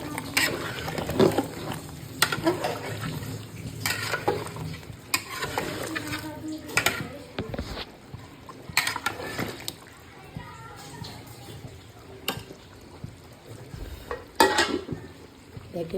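Beef rezala cooks in a pan with fried onions, chui jhal and whole garlic, giving a steady sizzle broken by repeated scraping stirs. Voices, including children's, carry on faintly in the background.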